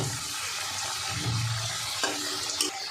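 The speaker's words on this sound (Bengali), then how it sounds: "শুধু লবণ দিয়ে আলুগুলো ভেজে নেব" Potatoes frying in oil with salt, a steady close hiss and crackle of sizzling that runs throughout with small bubbling pops and no voices.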